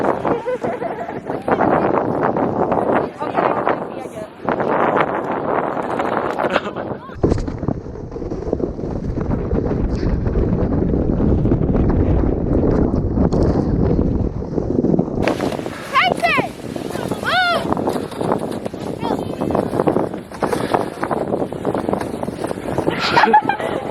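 Strong wind during a snow storm roars continuously against the microphone in an open, unsheltered spot, loud and gusty throughout, with people talking over it.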